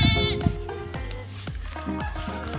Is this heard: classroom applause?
no